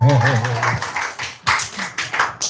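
An audience breaks into a few bursts of hand clapping right after a voice, scattered claps rather than sustained applause.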